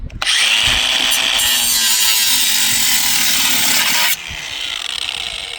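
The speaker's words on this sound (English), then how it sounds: "I couldn't find the corded angle grinder, so we're going to try the cordless." A cordless angle grinder cuts into metal on an older lawn mower with a loud, steady whine for about four seconds, then stops, leaving quieter background noise.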